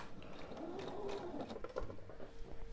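A sewing machine runs briefly while stitching onto a leader ender during quilt piecing, its soft mechanical whirr close and faint.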